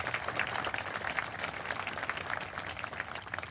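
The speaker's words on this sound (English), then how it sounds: "Chris Gay, round of applause for him." Graduation ceremony audience applauding a person who has three children in the senior class, a steady wash of clapping held at a fairly even level for the whole stretch, with no voices over it.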